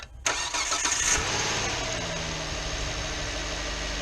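A car engine cranks briefly and catches after a fuel injector connector replacement, settling into a steady, smooth mid-pitched idle that hums on close by, with no voices.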